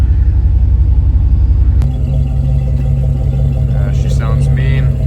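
A Honda Civic engine runs with a heavy, loud low rumble close by, then settles into a steady idle hum after a sharp click partway through, with faint voices or sounds near the end.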